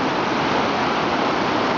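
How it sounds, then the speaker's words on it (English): Class 3 river rapids rush at Big Shoals in Florida, a steady, loud, broadband roar of churning water that continues without a break and has no voices over it. "Look at these rapids."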